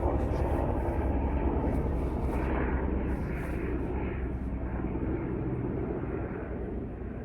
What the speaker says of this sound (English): Thank you, airplane, for proving that outside is not always one.